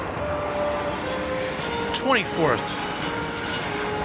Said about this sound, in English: UPS Flight 775 from Houston Intercontinental Airport. It'll be an Airbus A300, so we're going to turn our attention to that right now